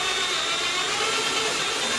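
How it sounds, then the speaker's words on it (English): Power drill boring into a carbon fiber rear diffuser on a C8 Corvette, a continuous loud high whirring drone that holds steady for two seconds with no talk. "And then we will get our drill in there,"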